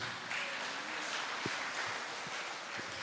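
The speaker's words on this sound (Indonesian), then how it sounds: "Tepuk tangan dong untuk Kristus." A church congregation at a Sunday service applauds for Christ, a steady wash of clapping throughout with a few louder claps standing out.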